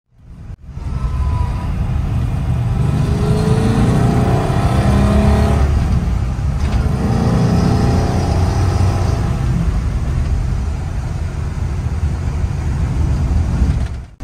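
A 1962 Ford Galaxie 406 muscle car engine roaring and revving, loud and close, with a sustained rumble and pitch changes as it accelerates, and no talk.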